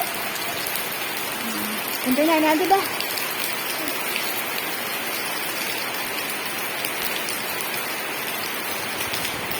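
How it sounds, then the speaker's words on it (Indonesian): Steady rain falls on an outdoor surface with dense, even hiss and patter throughout, and a person speaks briefly over it near the start. "Coba kita lihat hujannya."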